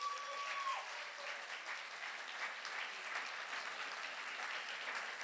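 A congregation at a Christmas gospel church service applauds a young man, a continuous wash of many hands clapping that holds steady, fairly faint and distant, after a brief electronic tone at the start.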